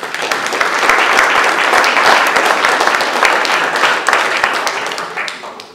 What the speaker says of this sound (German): Also ein Applaus dafür, herzlichen Glückwunsch